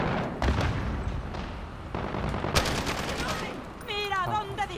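Gunfire in Call of Duty Modern Warfare rattles in loud bursts with sharp cracks, mixed with a voice speaking over the shooting.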